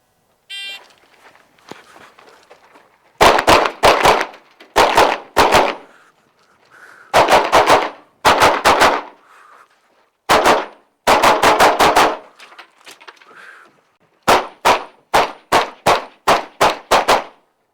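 Pistol shots fired during a practical shooting IPSC stage, loud sharp reports in fast bursts of two to six separated by short pauses, heard close with no talking.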